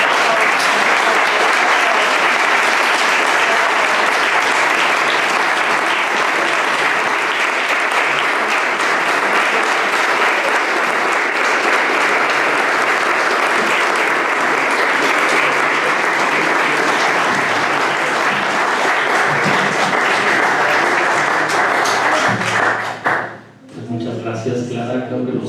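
Sustained, loud audience applause fills a lecture hall after a talk on the founding of the Casa de España, steady and dense for over twenty seconds before tapering off abruptly near the end.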